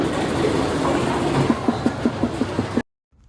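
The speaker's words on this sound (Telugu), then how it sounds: "అందుకని ఇంత క్రౌడ్స్ ఉన్నా కూడా లోకల్ ట్రైన్ తీసుకొని మనం ఇప్పుడు చర్చ్ గేట్కి అయితే వెళ్ళిపోతాం" A crowded Mumbai suburban local train rumbles along the tracks. Its loud, steady roar gives way to a rhythmic clickety-clack of wheels over rail joints before the sound cuts off abruptly, with no voices.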